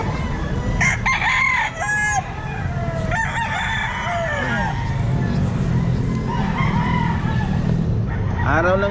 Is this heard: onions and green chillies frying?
no